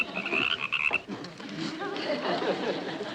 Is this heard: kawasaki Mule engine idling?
no